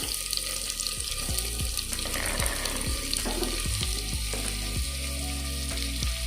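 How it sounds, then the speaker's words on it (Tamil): Onions and ground ginger-garlic paste fry in a pan for plantain flower biryani, a loud continuous sizzle with stirring scrapes and knocks throughout, and no talking. "நல்லா ஃப்ரை ஆகட்டும்."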